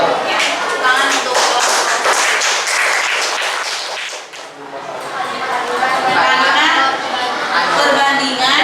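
An audience at a school coaching session in Indonesia applauds, dense steady clapping that fades briefly and then swells again, loud and close, with voices chattering underneath.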